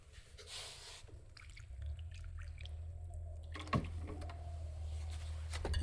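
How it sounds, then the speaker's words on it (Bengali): Water is poured until full into potted plants in a rooftop garden, a close low gurgling stream that swells steadily, with a few light drips and clinks over it. "দেখো আমরা ভর্তি করে জল দিয়ে দিচ্ছি"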